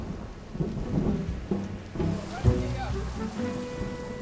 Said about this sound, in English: At 4 p.m, the storm breaks over Newquay.